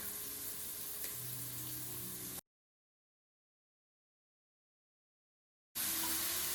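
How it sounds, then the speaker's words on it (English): Ground beef frying in a pan as a base for keto sloppy joes, a steady moderate sizzle with faint clinks, cut off by a stretch of silence before the sizzle resumes. "And now I'll add my ground beef."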